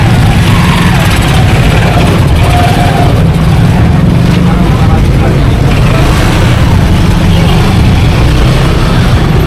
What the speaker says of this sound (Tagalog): Ganito ka-traffic sa amin